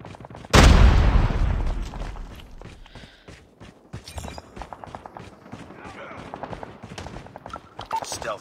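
Gunfire in the mobile shooter Call of Duty Mobile, starting with a loud close blast that rings out and fades, then a long run of rapid bursts and shots at varying distance while someone talks over them.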